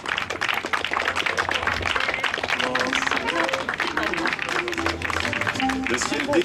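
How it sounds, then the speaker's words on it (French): A crowd at a vintage car concours d'élégance in Vannes applauds a Renault 4CV and its presenters, with dense, steady clapping throughout and voices talking over it. "On peut les applaudir, hein,"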